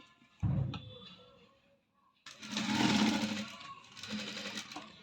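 A sewing machine stitches a blouse neckline, with a short burst of motor whir, a pause, then a longer steady run of stitching that eases briefly before carrying on.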